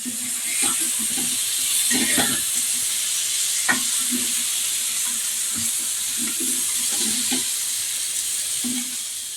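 Fish frying in a pan, a steady soft sizzle and hiss with scattered pops and crackles, heard close and alone.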